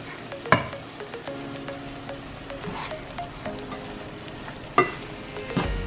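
Gnocchi carbonara with ham sizzles in a hot pan, a soft continuous fry broken by a few sharp clanks and stirring knocks, with no voices.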